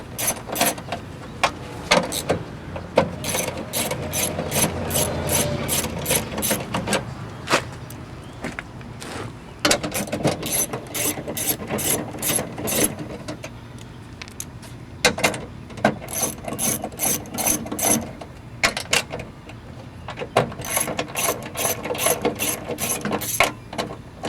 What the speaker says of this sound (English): So go ahead and remove all 7 of those bolts.